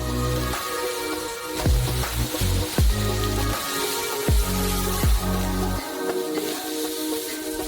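Forty kilograms of sugar pours into a hefty saucepan already holding corn syrup, a granular hiss and rattle with repeated low thuds as portions land, steady and close.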